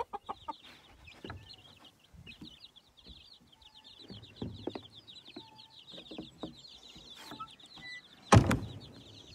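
A mother hen clucks softly amid rapid high peeping from tiny mixed-breed chicks, some with chocolate Orpington genetics, in a farm coop, with intermittent low clucks and a sharp knock or flutter near the end.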